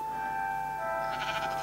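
Black sheep bleating in the video game Minecraft, a few wavering bleats rising near the end over a steady tonal game background, fairly close and alone with no talk.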